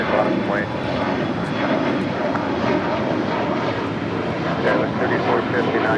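Roaring jet engines of an airliner taking off from runway 25 right at LAX, a broad steady rush heard from a distance that swells slightly, with radio chatter faintly beneath.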